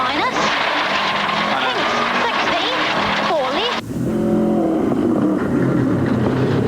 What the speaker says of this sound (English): listen to the hammering the car's getting from the loose gravel